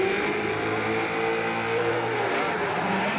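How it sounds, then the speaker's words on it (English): Speedway Falcon S15 drift car launching off the start line at a pro drift championship event in Wellington, engine roaring loud and steady over a broad rumbling noise, no voices. "And a huge launch off the line for Carl Thompson"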